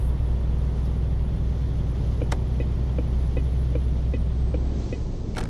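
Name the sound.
truck engine climbing hill in video game Euro Truck Simulator 2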